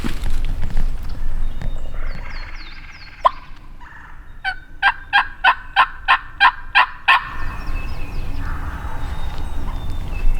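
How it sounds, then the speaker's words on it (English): Fairly distant wild turkey gobbling in a pine thicket on Mississippi public land: a rapid burst of about ten pulsing notes, set among other birdsong and faint outdoor background. "That time sounded like he was facing away from us, not gobbling in our direction."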